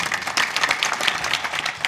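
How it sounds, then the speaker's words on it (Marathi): Audience applause at a Marathi kirtan in Vaychal Pimpri: dense, continuous clapping from many hands, steady and fairly close for two seconds with no voices over it. "मोकळ्या मनाने टाळ्या वाजवायच्या"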